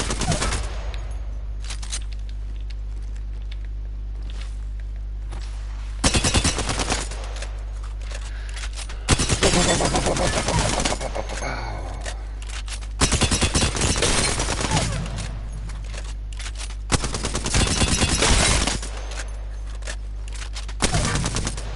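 Alternator submachine gun fired in Apex Legends, heard as several loud sustained bursts of rapid automatic fire, each lasting one to two seconds, separated by quieter gaps over a steady low game hum.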